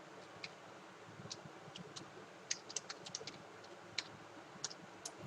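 Username being typed on a computer keyboard during a Linux subsystem install on Windows: quiet, irregular bursts of light key clicks, a few sharper taps standing out, over a low steady room hum.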